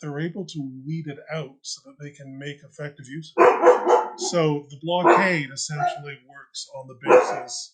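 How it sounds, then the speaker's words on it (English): Dogs barking in the background, several short barks and yips heard under a man's ongoing lecture-style talk. "Sorry about the dogs."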